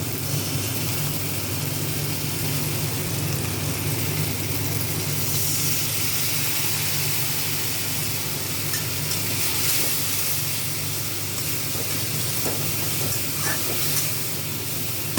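A steady, close sizzle of tomato masala with ginger, cumin, coriander, dried red chilli and turmeric frying in oil, hissing continuously without a break.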